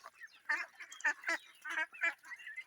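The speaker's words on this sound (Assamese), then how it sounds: "হাঁহ এটা এনেকুৱা বস্তু মানে যাক আপুনি দানা দি সন্তুষ্ট কৰিব নোৱাৰে" Local ducks feeding on grain give repeated nasal quacks and honking calls in short bursts, close and fairly loud, with no talk over them.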